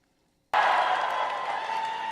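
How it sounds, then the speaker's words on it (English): Crowd cheering and applauding a speech in New York: loud, dense applause and cheers burst in abruptly from silence and hold steady to the end. "People cheering like crazy because he quoted a socialist."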